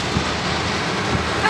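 Heavy rain heard from inside a moving car during a downpour, a steady broadband hiss of water on the body with low road rumble underneath and no talking.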